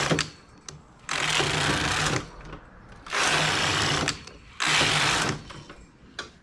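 Knitting machine carriage sliding back and forth across the needle bed while working decreases, three loud whirring passes separated by short quiet gaps, close up, with faint clicks between.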